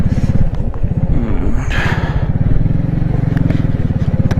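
A motorcycle rides in second gear along a rocky mountain road on the way to Shandur Top, its engine loud, close and throbbing steadily, with scrapes and clatter from stones underneath.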